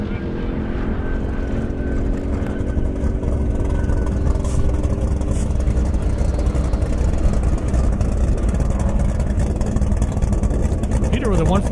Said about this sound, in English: Kim in the Mustang, just sneaking through the traps there.